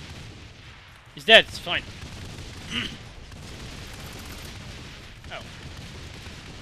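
Gunfire in Saints Row: The Third, a couple of loud sharp shots close together early on followed by fainter scattered reports under steady game noise, with a person talking briefly.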